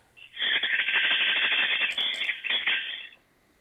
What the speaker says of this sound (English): El Timbo, can we hear a bit of maracas?